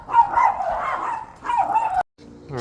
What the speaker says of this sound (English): my neighbor's dog got out